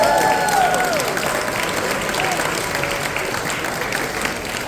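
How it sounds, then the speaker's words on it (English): Audience applause at a community gala, a dense steady clapping from a large room that carries on evenly throughout. "How about another round of applause for Edwin, please?"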